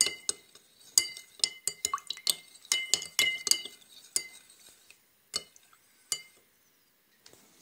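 A spoon stirs white Nimesil powder into liquid in a glass, giving a run of bright, irregular clinks and taps against the glass, close and clear, which thin out and pause toward the end.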